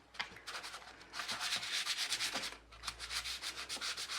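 Dry wet-and-dry sandpaper is rubbed by hand in quick back-and-forth strokes over a small cast piece, giving close, scratchy bursts in a steady rhythm with a brief pause midway.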